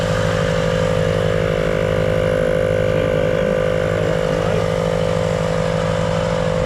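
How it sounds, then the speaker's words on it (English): A small portable air compressor runs steadily nearby, its motor giving a constant, loud mechanical drone with a low throbbing pulse throughout, no pauses or talk. "So I've got the little compressor going."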